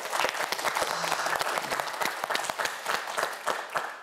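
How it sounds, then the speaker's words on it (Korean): Audience on a Korean quiz show breaks into brisk, dense applause, a full crowd clapping steadily and close for the whole stretch. "박수 한번 보내주세요."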